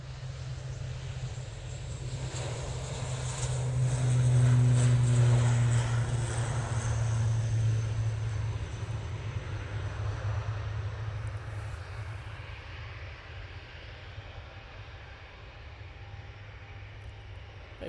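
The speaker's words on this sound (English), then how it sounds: "There goes the Arini in the ex-Avianca liveried ATR 72, going back to Guernsey." An ATR 72 turboprop in ex-Avianca livery passes at Manchester Airport, a low droning propeller hum swelling to its loudest midway then slowly fading as it moves off into the distance.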